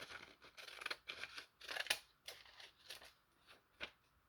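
Scissors snip through book page paper in a quick, irregular series of crisp cuts, close and clear with short pauses between them.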